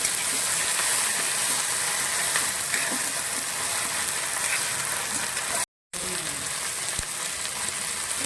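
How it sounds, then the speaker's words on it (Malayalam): Onions, chillies and other ingredients for a drumstick leaf and dal thoran sautéing in hot oil, a continuous loud close sizzle with a brief dropout near the end. "ഇതൊക്കെയാണ് നമ്മൾ നന്നായിട്ടൊന്ന് എണ്ണയിലൊന്ന് വഴറ്റിയെടുക്കണം"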